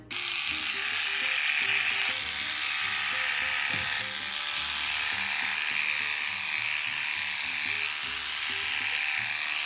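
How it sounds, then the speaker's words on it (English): Small Nova clippers trimming around a horse's face, a continuous close electric buzz with a faint rhythmic mechanical chatter, holding steady throughout with no pauses. "I'm gonna use my little Nova trimmers for her face"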